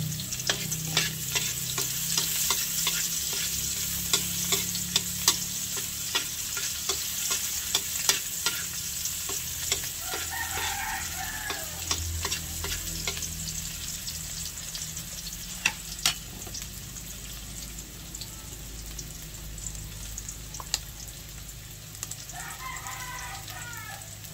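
Onion fries in a hot pan with a dense continuous sizzle and frequent sharp spatula scrapes and taps, close and steady, while a rooster crows faintly in the background twice; no one speaks.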